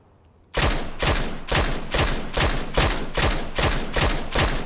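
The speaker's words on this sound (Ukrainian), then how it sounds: "там ще по боту стріляє якийсь тип" Rapid bursts of automatic gunfire in PUBG, loud and close, with regular repeated volleys roughly every half second after a short quiet start.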